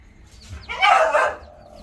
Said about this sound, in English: This is the hen from the guys that live here. Now they have baby chicks too.